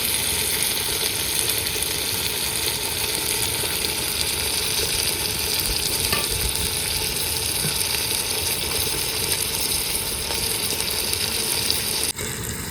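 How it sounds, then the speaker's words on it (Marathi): Meat sizzles and crackles steadily in a hot pan while being sautéed, a dense continuous frying hiss at even loudness with faint stirring scrapes throughout. "सगळं मासं टाकून झालं मित्रांनो. आता मस्तपैकी परतायचं चाललंय."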